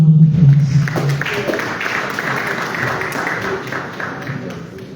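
A voice speaks briefly, then a crowd at an official launch ceremony breaks into a sustained round of applause that stays fairly loud and steady to the end.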